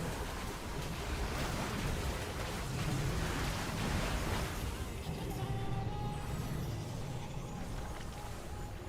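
Rain in a video game, a dense steady wash of falling water with a low rumble, loud and continuous, thinning slightly toward the end.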